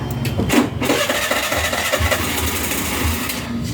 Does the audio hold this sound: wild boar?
no